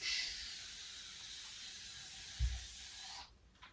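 Spray bottle misted over a child's bed before the sheets are changed, a steady close hiss lasting about three seconds and stopping abruptly, with a brief low thump partway through.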